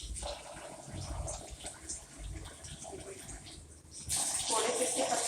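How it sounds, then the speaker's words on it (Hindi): Water runs into a kitchen vessel holding washed leafy greens, a steady rushing pour that grows louder and brighter near the end, with a voice talking over it. "अब वो इसको इस तरह से आप इसमें पानी भरेंगे"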